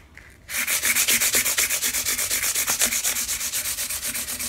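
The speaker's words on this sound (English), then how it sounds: "we're just going to take a little piece of 600 grit sandpaper, wrap it around my finger, and polish it that way" A fingertip wrapped in 600 grit sandpaper rubs back and forth over the frets of a Vega Tubaphone tenor banjo, producing close, rhythmic rasping strokes of steady loudness after a brief quiet start.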